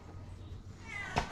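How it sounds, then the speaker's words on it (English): A pet cat's meow comes once, short and fairly close near the end, over a quiet indoor background. "I heard you, Smokey. Where'd you go? Meow meow"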